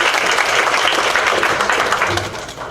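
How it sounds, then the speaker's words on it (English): Loud, dense applause from a large crowd at a school board meeting, steady throughout before tapering slightly at the end, with a few cheers mixed in. "let's give her another round of applause"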